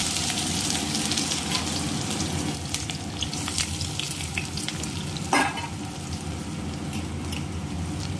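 Steady, continuous sizzling and crackling of onions and garlic frying in oil, with occasional stirring scrapes and a brief louder clatter partway through.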